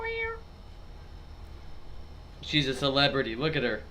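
A cat meows near the end, a drawn-out meow heard close over a quiet indoor hum, while a person speaks briefly.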